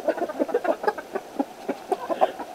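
A rooster in a chicken coop on a cold day makes a run of short, close, rhythmic clucking calls in quick bursts.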